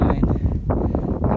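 Strong wind buffets a hand-cupped microphone at a black opal mine in Virgin Valley, Nevada, making a brief, close, low rumbling roar with uneven gusts.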